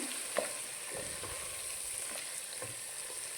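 White brinjal with turmeric sizzles softly in a pan while being stirred, a quiet, steady frying crackle broken by occasional scrapes and clinks of the spoon.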